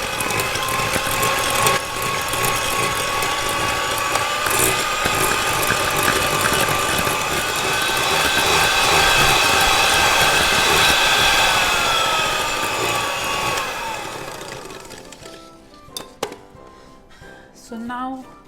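Electric mixer beating apple streusel cake batter with room-temperature eggs and vanilla, a loud steady whirring drone for over ten seconds that winds down and stops, followed by brief clatters.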